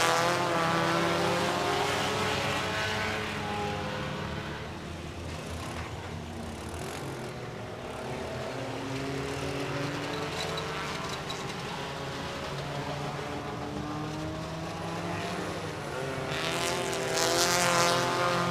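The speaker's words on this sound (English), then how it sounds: "Really surprised on how some of these cars can get around this track at those speeds with just 3 tires." Race cars on a dirt oval track roar past in a sustained loud engine drone that swells and fades as they circle, with a louder pass near the end.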